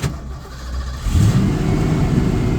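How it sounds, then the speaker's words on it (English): A car engine, worked on after a vacuum repair, idles low at first, then revs up sharply and holds a steady high idle. It sounds close and loud, with no talking. "see the RPM's going up way higher than it used to be"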